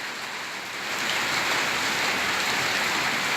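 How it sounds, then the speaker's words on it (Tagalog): Rain falls steadily during the rainy season in June, a dense hiss of drops on surfaces that swells after the first second and then holds loud and constant. "Sarap ngayon yan kasi tag-ulan."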